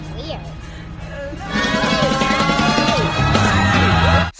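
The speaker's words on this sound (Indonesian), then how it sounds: "Sebastian pun mulai menggoda dengan iseng menakuti 2 anak kecil sampai mereka teriak ketakutan." Two children scream in fear in a film scene, loud, rising shrieks that swell after a quieter start, mixed with other voices and sound effects.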